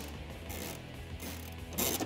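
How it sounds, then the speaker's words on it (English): Ratchet with a 12mm socket and extension tightening factory bolts while fitting an Injen Evolution cold air intake on a Toyota Tacoma: a short run of quick clicking pawl strokes, close and fairly quiet. "Then we can tighten it down with a 12mm socket."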